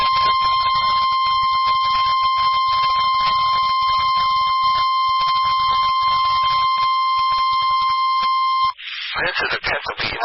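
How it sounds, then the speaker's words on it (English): NOAA weather radio warning alarm for an emergency alert system test: a loud, steady, piercing single tone that holds for about nine seconds, then cuts off as a voice starts speaking. "This is a test of the emergency alert system and NOAA weather radio's warning alarm."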